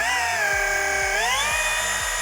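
An electric polisher set to speed 2.5 runs on oxidized boat gel coat, a steady high-pitched motor whine with layered harmonics that shifts slightly in pitch as the pad works back and forth.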